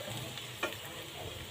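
Short close spell of stirring a cheesy potato and spice mixture in a pan, soft scraping over a light sizzle, with one brief sharper clink.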